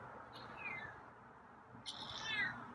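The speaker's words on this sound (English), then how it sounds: "there's a meow" Two soft meows from a feral cat, one short and one longer and higher, separated by a pause in a quiet room.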